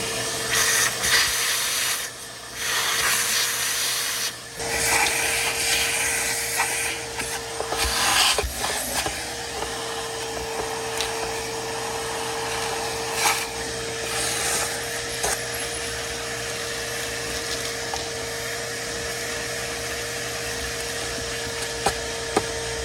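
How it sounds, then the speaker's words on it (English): A long, loud hiss from a compressed air hose blowing out an old Ford Ranger part, in bursts and steady streams, with brief pauses and a faint tonal whine underneath. "So I'm gonna get the air hose. I'll blow this out."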